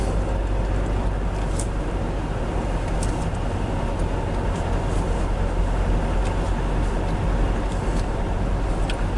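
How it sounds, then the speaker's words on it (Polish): A car drives at higher speed, with a constant roar of engine and road noise heard from inside. The sound stays loud and even from start to finish, and no one speaks. "Zobaczymy jak się zachowuje auto przy większej prędkości."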